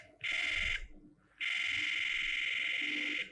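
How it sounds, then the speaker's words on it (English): Two loud electronic beeps, a short one followed by a longer sustained tone, shrill and close with a quiet gap between them. "you can hear the beep also"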